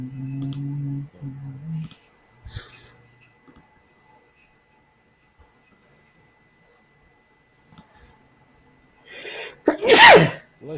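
A single sharp human sneeze bursts out loudly near the end, after a short stretch of low humming talk and a long quiet pause during a Bible study session.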